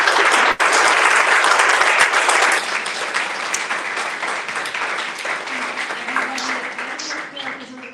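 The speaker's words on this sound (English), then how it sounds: "So let's clap for our panelists" An audience applauds panelists after a literary reading event, loud, dense clapping at first that thins and softens after a few seconds as faint background music or voices emerge near the end.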